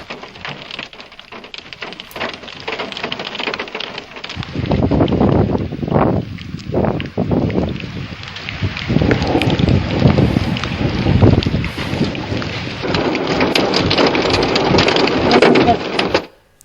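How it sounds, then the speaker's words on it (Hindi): Heavy rain with hail roars as a dense, loud broadband wash, buffeting wind gusts swelling through the middle, continuous and close until it cuts off abruptly at the end. "भारी बारिश के बाद ओलावृष्टि भी हुई"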